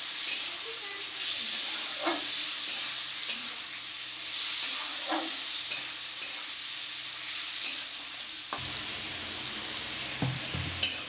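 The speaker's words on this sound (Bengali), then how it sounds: "নিয়ে একটু ভেজে নেবা, 2-3 মিনিট ভেজে নিলেই হবে।" Soaked lentils fry in a pan for sabudana khichuri, giving a steady hiss with soft periodic stirring scrapes and light knocks, a louder clatter near the end, and no voices.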